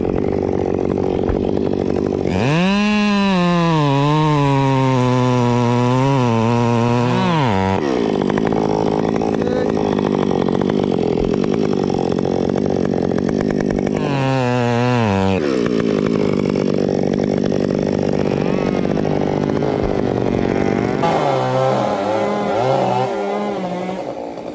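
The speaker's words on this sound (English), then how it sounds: "using a chainsaw to cut the tree trunk into neat pieces." A chainsaw cuts a thick tree trunk into neat pieces, its engine running loud and close throughout with repeated rising revs and strained bogging as the chain bites into the wood, with no voices.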